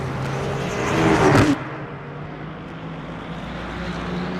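GT3 race cars on the Qatar circuit roar past loudly, one engine swelling to a peak then dropping away, leaving a steady engine drone under it.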